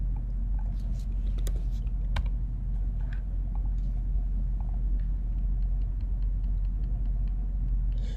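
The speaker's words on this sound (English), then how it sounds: "I'm just hitting my up arrow on my keyboard to move that up a little bit." A few scattered clicks from a computer keyboard, including arrow-key presses, sound sparsely and fairly close over a steady low background rumble.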